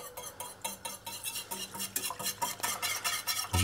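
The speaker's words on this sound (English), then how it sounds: "Now when I'm mixing my light malt extract and my water, I like to use a whisk." A whisk stirring light malt extract into warm water in a pot, rapid rhythmic scraping and clinking strokes against the metal, close and steady.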